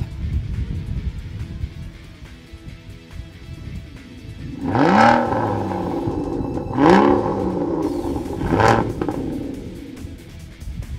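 Aston Martin V12 Vanquish: a low idling engine rumble with three distinct rising revs or blips spaced about two seconds apart, loud and close, with no talking.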